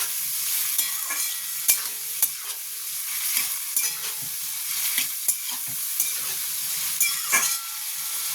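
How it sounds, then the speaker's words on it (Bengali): Prawns fry in a pan as their water cooks off, giving a steady close sizzle broken by frequent scrapes and stirring knocks throughout. "আমি চিংড়ি মাছটা বেশি লাল করে ভাজবো না, শুধু চিংড়ি মাছের যে জলটা আছে সেই জলটা আমি শুকাবো।"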